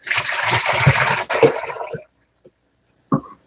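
Running tap water rinsing food before cooking, a close splashing gush for about two seconds that then cuts off, followed by a couple of faint drips and a small clatter.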